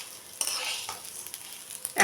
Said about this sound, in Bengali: পোলাওয়ের চালটা ভাজা হয়ে গেছে, এরকম চিটির চিটির করে আওয়াজ হচ্ছে